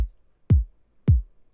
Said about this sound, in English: So the kick drum sounds like this.